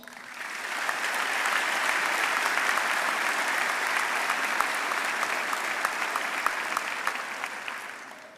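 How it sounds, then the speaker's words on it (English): Audience at a high school graduation ceremony applauds steadily, a dense sustained clapping that swells in, holds for several seconds and tapers off, with no talking over it. "Please give these young people a round of applause."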